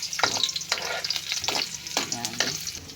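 Onions sizzling in hot cooking oil in a pan for mung bean stew, with a steady crackling fry and several sharper bursts and stirring scrapes, close and clear with no talk.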